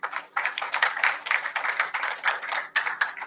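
Lecture audience clapping in a hall, a dense run of many hands in steady rhythm, fairly close and loud, with a brief lull partway through.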